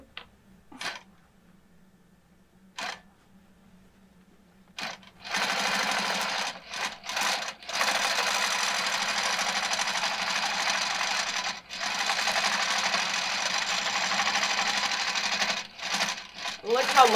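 A longarm quilting machine sews a holiday ornament design in 12 weight thread. It starts with a few short bursts, then runs in long, loud, steady stretches with brief pauses, while people chat over it.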